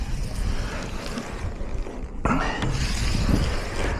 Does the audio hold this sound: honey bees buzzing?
no